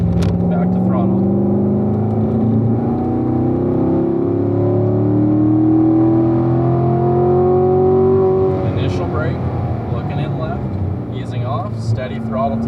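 Car engine in a driving-instructor session, rising and falling as throttle is applied and released for braking, with a steady drone and long pitch sweeps throughout while someone talks over it.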